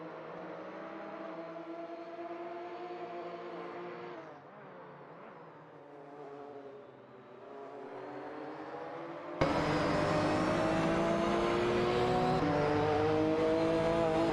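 Race car engines from a Porsche 911 and a Jaguar XJ220 in a racing video game drone with steady layered tones, first muffled and then abruptly louder and brighter partway through.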